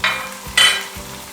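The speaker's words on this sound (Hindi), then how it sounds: "इसको अच्छी तरह हमने भूनना है गोश्त को।" Loud hissing sizzle of mutton frying in a hot pan, rising in two bursts as it is stirred, with low scraping thumps.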